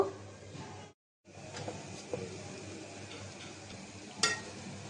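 Water spinach greens fry in a covered pan, giving a steady close sizzle with light stirring clatter, a brief silent break near the start and a sharp clink toward the end.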